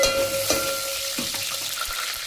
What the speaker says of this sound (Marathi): त्यानंतर आता मोहरी टाकून घेऊया.